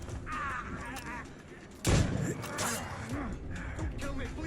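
A gunshot in the video game Assassin's Creed Rogue: one loud, sharp blast in the middle stands out over a game soundtrack and a voice talking.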